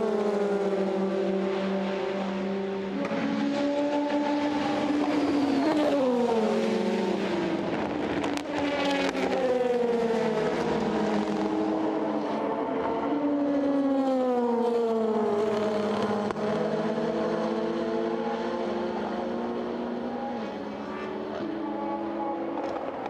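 Le Mans endurance race cars, including prototypes, screaming along the Hunaudières straight toward the Michelin chicane during the 2020 24 Hours, with several engines overlapping and rising and falling in pitch as they pass, loud and continuous without talk.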